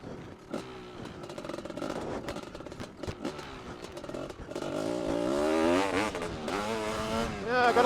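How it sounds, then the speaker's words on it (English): Honda CR500 motorcycle engine revving and accelerating, a loud, continuous rising and falling drone with sweeping pitch changes, growing stronger toward the end, with no talking. "Oh, the CR500. Is there anything better than a CR500?"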